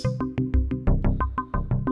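Arturia Pigments 3 synth preset Geometric sounds a single C in a rapid series of bright, plucky repeated hits, each with a sharp attack and quick decay, loud and alone with no voice.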